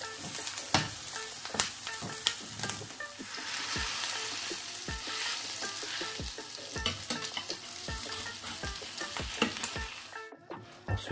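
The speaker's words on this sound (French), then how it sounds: "Dans une poêle chaude, je vais pouvoir mettre un peu d'huile et je vais y déposer mon steak" A steady sizzle of a burger steak frying in hot oil in a hot pan, with scattered clicks and taps of a utensil in the pan throughout.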